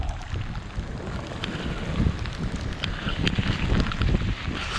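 Dense, steady wash of heavy rain with wind buffeting the microphone, a constant broadband roar with no voices.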